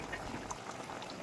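A pot of curry with potatoes and fried papad bubbles at a steady rolling boil, with close, soft gurgling and popping throughout.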